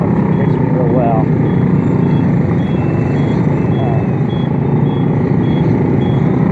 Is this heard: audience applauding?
no